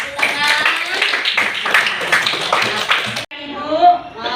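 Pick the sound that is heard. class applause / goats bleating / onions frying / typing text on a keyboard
class applause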